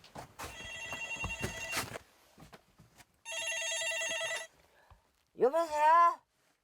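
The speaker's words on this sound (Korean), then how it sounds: "아무도 없어 조용했던 집에 전화 소리가 울려 퍼집니다." An old telephone bell rings in two bursts separated by a pause inside a quiet, empty house on a remote Korean island, followed by a short voice.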